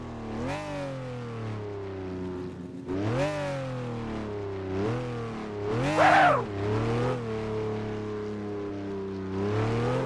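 Engine of a car in a video game, alone and steady, with its pitch climbing and dropping through several rev swells, one sharper loud burst near the middle, then settling back to a sustained drone.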